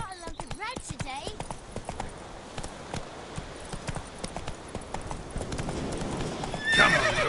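A horse trots in the video game Witcher 3, its hooves clip-clopping in a quick, even rhythm with a whinny near the start, while a voice speaks over the hoofbeats.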